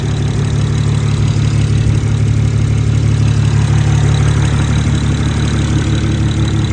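A BMW 335xi engine idles after a head gasket replacement, a loud, close, steady low rumble with an even throb and no pauses.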